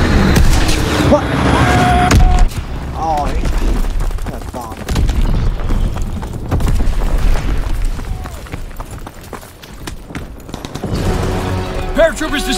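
Azon bombs exploding in the World War II shooter game Call of Duty WW2, a series of loud, heavy booms and rumbling blasts rolling one after another, mixed with gunfire and bursts of speech throughout.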